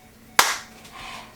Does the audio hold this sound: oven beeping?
no